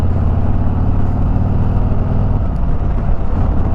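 A 2021 Harley-Davidson Road Glide Special's Milwaukee 8 114 engine running, a loud dense low rumble that holds steady throughout with no talk.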